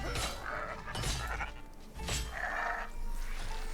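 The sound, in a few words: goat bleating in the video game RuneScape: Dragonwilds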